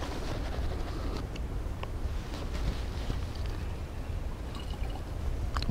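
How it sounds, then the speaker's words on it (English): Metsulfuron herbicide being poured into a splatter gun mix with water, a soft continuous liquid trickle with faint drips and splashes, quiet and close, with no talking. "Pour the metsulfurin in"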